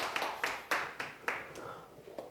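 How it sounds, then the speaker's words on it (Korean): Scattered applause from a church congregation, a few distinct claps in a quick uneven burst, moderately loud and then thinning out, with no voices over it. "박수 한번 쳐주시죠."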